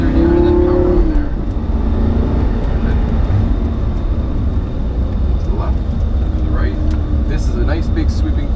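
Lamborghini engine droning steadily under throttle through a sweeping corner, a continuous loud in-cabin roar with a voice talking over it.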